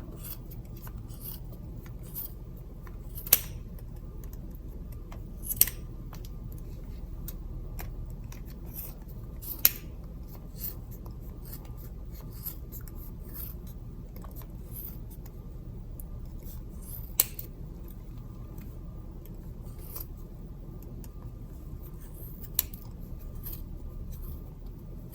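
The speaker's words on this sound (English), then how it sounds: "you have to cut it open in order to wrap your yarn" Small scissors snip yarn while a hat is being crocheted: about six crisp, isolated clicks spaced several seconds apart over a quiet, faintly hissing room.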